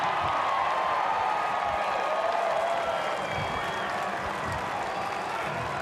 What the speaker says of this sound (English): Small, intimate crowd here at Mount Smart. The members out in force. They loved watching that.